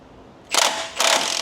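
A ratchet wrench on the crank bolt of a Honda 3.5 engine gives two short bursts of close, crisp clicking, one after the other, with no voices.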